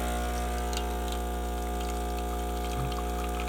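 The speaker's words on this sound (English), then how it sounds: "get a nice slow drip till it runs even." A Breville Barista Express espresso machine pumps a shot with a steady, loud mechanical hum and strong tonal buzz, while faint drips and ticks patter over it, ending with a short bubbly gurgle near the end.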